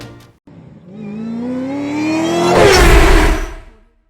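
A 2025 Audi RS e-tron GT Performance electric car accelerates hard, its motor whine sweeping steadily upward over about three seconds into a loud rushing whoosh close by, then cutting off.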